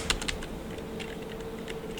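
Quick keystrokes on a computer keyboard come in a short burst, then a few more scattered taps, close and moderately loud with no talking.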